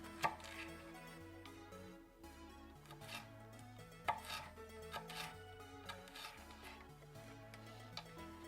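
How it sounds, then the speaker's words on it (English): Homegrown garden jalapeños being sliced on a cutting board, a faint run of quick knife taps over quiet background music. "just slice up a couple of jalapeños from my garden"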